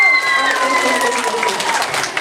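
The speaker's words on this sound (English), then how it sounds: "Let's give her a round of applause" A crowd applauds a puppet show act, steady clapping throughout with some cheering, while whistle-like tones and a voice carry over the top at the start.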